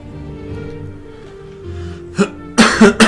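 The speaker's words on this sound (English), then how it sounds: "Sorry for the coughing." A few harsh, close coughs burst out in quick succession after a quiet, low murmur.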